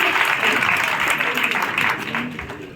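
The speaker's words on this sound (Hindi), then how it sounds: "जोरदार तालियों के साथ स्वागत करें" Loud, sustained applause from an audience at a public welcome ceremony, many hands clapping in a dense wash that fades slightly toward the end.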